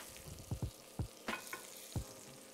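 Pieces of pork osso buco sizzle in butter with spices in a pan, with several distinct thumps and scrapes as pieces are turned over the steady frying hiss.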